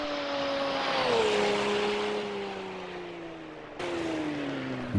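Race car engine in the Assetto Corsa racing game at Croft circuit, a steady droning tone that slowly falls in pitch, then jumps back up sharply near the end as if after a gear change, continuous and fairly loud with no talking.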